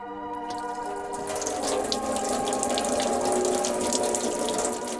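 Water runs steadily from a tap into a small kitchen sink, a continuous splashing gush that stays loud and even throughout, with no voices.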